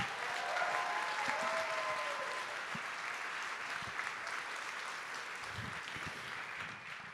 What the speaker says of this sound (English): I want everyone to turn around and give them a round of applause